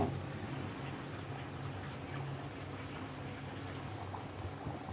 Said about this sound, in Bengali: তারপরে 3-4 মিনিট ফুটিয়ে নিলেই কিন্তু গাটি কচু দিয়ে ডিমের কারি একদম রেডি হয়ে যাবে